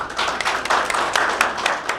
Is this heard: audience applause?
yes